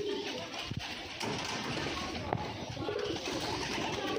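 A pair of pigeons, one Gola and one Giribaz, coo softly at close range amid a rustling outdoor background in a foggy village, with a few brief knocks.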